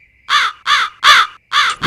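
Harsh crow-like caws from birds, four loud close calls in a steady rhythm with short silent gaps between them.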